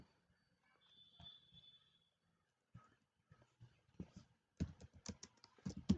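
Light typing on a computer keyboard during an HTML coding lesson, scattered soft key taps at first, then quicker clustered clicks toward the end, quiet and close with no talk.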